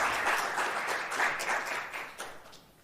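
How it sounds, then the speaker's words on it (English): Brief applause from a guest-lecture audience, a soft, fairly distant patter of clapping that swells slightly and tapers off within a few seconds. "if we can have a round of applause for him as a thank you."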